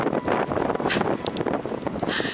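Steady, heavy autumn wind in St. John's, Newfoundland, buffeting the microphone with a continuous roar and gusty rumble throughout, no voices.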